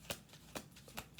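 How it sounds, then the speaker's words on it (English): Playing cards are laid down one at a time on a table, making three quiet, crisp slaps spaced evenly apart, close by and with nothing else heard. "Two cards on the table."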